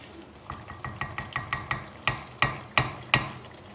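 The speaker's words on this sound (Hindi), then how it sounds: "सिर्फ हमने एक क्रीम डाल के सिर्फ 1 मिनट के लिए हल्की आग पे पकाना है।" A spoon clinks and scrapes in a pot of Peshawari chicken handi with cream added over a low flame, sounding as a series of regular metallic taps that grow louder and more spaced toward the end, close up.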